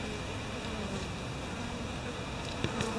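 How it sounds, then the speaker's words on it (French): An Asian hornet buzzes near a honeybee swarm, a continuous insect drone with many bees humming around it, steady and fairly quiet, with a couple of brief closer passes near the end. "Là il y a un frelon asiatique aussi qui tourne."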